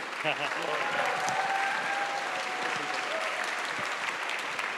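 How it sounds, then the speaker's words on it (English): A crowd at a Green Party May Day political rally gives a strong, sustained round of applause, close and dense throughout, while a voice briefly speaks over it at the start. "And one more round of applause for Paul and Kate."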